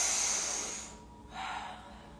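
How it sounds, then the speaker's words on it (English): Airy mouth breathing during a guided fascia movement class, a long steady exhale fading out, then a short softer breath after a brief pause, close and alone. "Breathing through your mouth."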